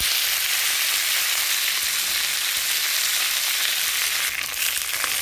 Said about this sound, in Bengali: তেল দিয়ে দিয়েছি, সর্ষে দিয়ে দিয়েছি, কড়ি পাতা দিয়ে দিলাম